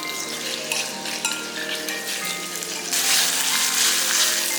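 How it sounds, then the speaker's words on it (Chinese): Pork belly stir-frying in a little oil in a hot clay pot, with a steady bright sizzle that grows louder and hissier partway through, close and continuous. "砂锅烧热，倒一点油，先把五花肉放下去炒一下"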